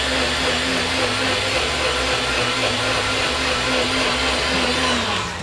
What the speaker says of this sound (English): We're gonna blend this guy one more time.